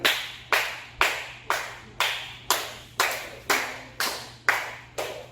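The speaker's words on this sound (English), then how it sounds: "I'll clap the rhythm for them." Single sharp hand claps keep a slow, even dance rhythm, about two per second, each crisp and ringing briefly in a room, with no talk over them.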